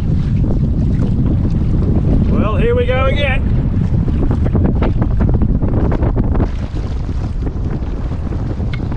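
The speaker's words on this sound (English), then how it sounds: "Hopefully you can hear me above this blowing gale." A strong gale roars steadily against the microphone while canoeing on open water, with gusty rumbling wind noise throughout, a brief high warbling sound partway through, and no clear talking.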